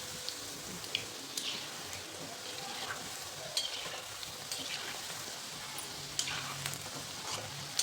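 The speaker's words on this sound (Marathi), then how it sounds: "तर छान क्रिस्पी होईपर्यंत तळून घ्यायचे" Constant crackling sizzle of soya chunks deep frying in oil, with occasional louder pops and a few soft utensil scrapes.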